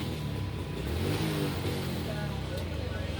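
A Suzuki Shooter motorcycle engine runs with a misfire as the throttle is blipped, giving a steady, close mid-pitched engine drone with slight rises in revs throughout.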